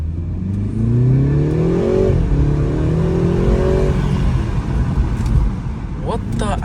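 A BMW G20 engine with a modified intake revs up and down several times, rising and falling pitch, loud and close, with a brief voice near the end.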